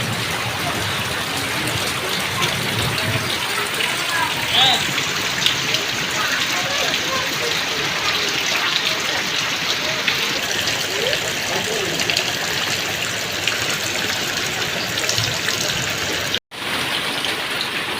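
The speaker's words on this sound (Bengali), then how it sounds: "যে পাশে বৃষ্টি নেমে গেছে" Steady rain falls on a rural village, a dense broadband hiss with no pauses for the full length, loud and close.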